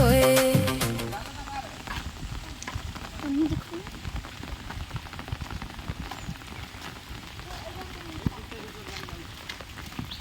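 Heavy rain pours steadily across a flooded village road, a dense continuous hiss of drops with voices and shouts over it, loudest at the start.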